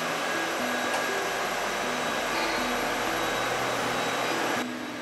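A vibration test machine, used to shake products the way a truck does in transport, runs with a loud, steady roaring hum and a few faint tones. The noise eases slightly just before the end.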